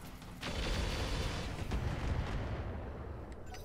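Heavy mech weapons firing in the BattleTech-based video game Roguetech: a deep, sustained booming roar of artillery-like fire that swells after a brief pause and rumbles on without talk.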